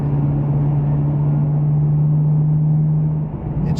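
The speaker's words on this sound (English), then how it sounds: "You hear the burble letting off the exhaust." A BMW M4 CS exhaust burbles steadily as the driver lifts off the throttle, a loud, continuous low rumble that holds evenly for about three seconds before easing slightly near the end, with no talk over it.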